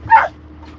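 A 13-year-old dog gives a single short, close, high whining yip while begging for cheese, then a faint trailing whimper, with no talk over it.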